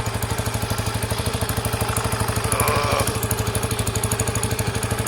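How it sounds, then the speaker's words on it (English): A Sinnis SC125 motorcycle engine runs steadily close by, its rapid regular firing pulses dropping in revs, with a brief rise in mechanical clatter partway through. "the revs are dropping so much better"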